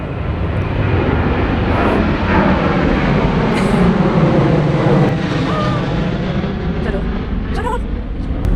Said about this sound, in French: J'habite près d'un aéroport. J'adore voir les avions tout bas.